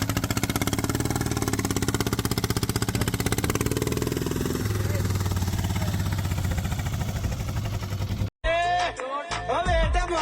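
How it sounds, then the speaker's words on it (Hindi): An HMT tractor engine hauls a harrow across a field with a loud, steady, close diesel throb that runs unbroken for about eight seconds, then cuts abruptly to a different, tonal sound. "इसके पीछे हम हर्रो को अटैच करेंगे और फिर देखेंगे कि ये जो ट्रैक्टर है इस हर्रो को खींच भी पाएगा या फिर नहीं"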